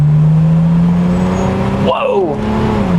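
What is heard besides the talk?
Mercedes inline-six car accelerating at full throttle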